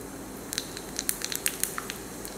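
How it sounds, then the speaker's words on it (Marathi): Mustard seeds and cumin crackle in hot oil, with a steady close sizzle and a quick scatter of sharp pops and spits through the short stretch, no voices. "तेल गरम झालं की त्यात घालूया मोहरी,"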